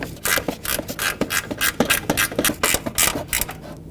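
Ratchet tightening two engine mount bolts on a 2012-2017 Toyota Camry 2.5L, a quick, steady train of close clicks running with an even rhythm and no talk.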